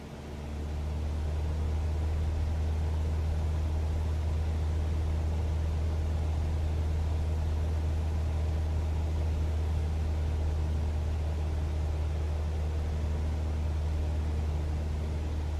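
Steady drone of a single-prop aircraft engine held at 2300 RPM cruise power in a flight simulator game, a constant low hum with no voices, unbroken for the whole stretch.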